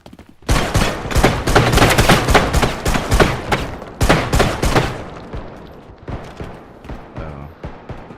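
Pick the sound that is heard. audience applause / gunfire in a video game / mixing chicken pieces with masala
gunfire in a video game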